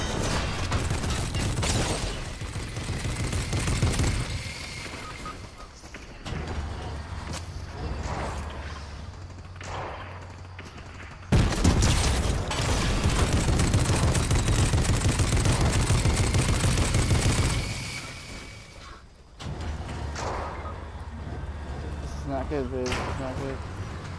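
Fortnite gunfire in a no-build squads match: bursts of rapid shots and mechanical clatter that come and go across the scene, moderately loud, mixed with game effects and people talking over it.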